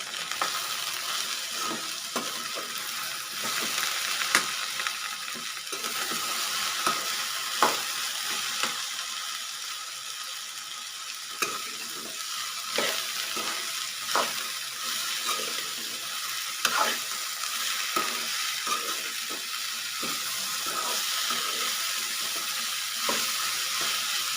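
Okra curry with kokum is stirred in a hot pan, giving a continuous close sizzle with repeated scraping and tapping of the spoon against the pan.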